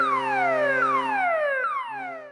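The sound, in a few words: ship abandon rig alarm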